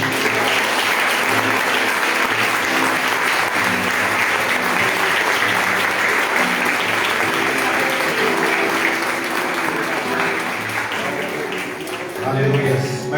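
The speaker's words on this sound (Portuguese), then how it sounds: "Mais palmas para o Senhor Jesus" Loud, sustained applause from a church congregation at a live Multidões Para Cristo worship service, a dense steady clapping wash lasting many seconds with voices mixed in and a faint dip near the end.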